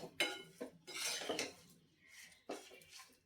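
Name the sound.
mixing roasted coconut into the sweet mixture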